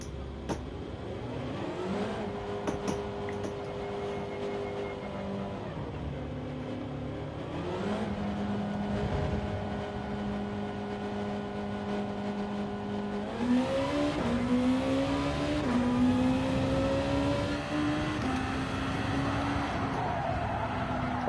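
A Gr.2 race car engine in Gran Turismo 7 runs continuously, holding steady revs then climbing sharply through gears, with a loud, close, sustained racing drone and faint tire noise.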